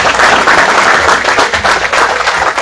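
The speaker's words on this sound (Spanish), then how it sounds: "Allí están, para ellos el aplauso." Loud, dense applause from a crowd at a rural livestock show awards ceremony for a pedigree breeding champion, sustained and close throughout with no talking.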